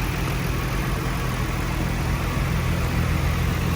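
A Nissan R34 GT-R idles close by, a loud steady rumble with a low burbling pulse that holds even throughout.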